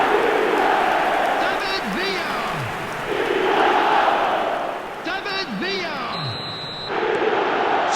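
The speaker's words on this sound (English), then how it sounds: "The crowd are calling for this to be put to bed." Stadium crowd in an eFootball match on an Italian tour, a steady broad roar of fans that swells and dips, with whistle-like chants and calls rising over it at intervals.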